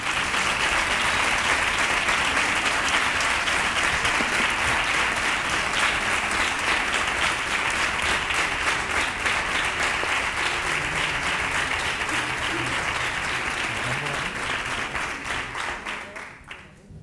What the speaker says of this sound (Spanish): Vamos a recibir como se merece a este amigo mío, a este gran nervense, con un fortísimo aplauso